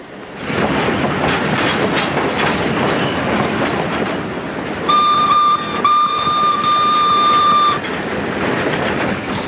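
A steady rumbling train rolls along an old railroad in China in the 1940s, with a sustained high horn tone sounding for a few seconds partway through.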